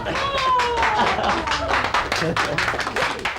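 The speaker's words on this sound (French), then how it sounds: "Sorti par la grande porte et sous les applaudissements des fidèles, pour le Docteur Dor." Churchgoers applaud as a doctor walks out through the main door, a lively crowd clapping close by and loud, with voices carrying over the clapping.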